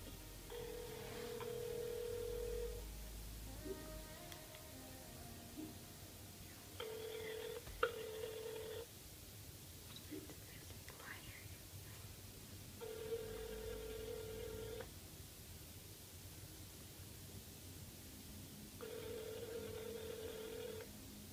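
Telephone ringback tones on a call placed to a friend, several evenly spaced electronic ring bursts separated by pauses, steady and moderately loud with faint background noise and no speech.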